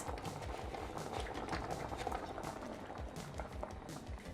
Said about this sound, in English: So I'm just stirring it up until it gets, nice and uniform.